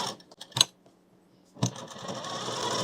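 A sewing machine stitches a puffed kurti sleeve, opening with a few short mechanical clicks and clunks, a quiet pause, then a steady whirring run of stitching up close.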